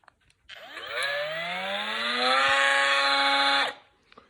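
A cheap angle grinder spins up from rest, its whine rising in pitch and holding loud and steady for about three seconds before cutting off abruptly, with a faint knock before and after.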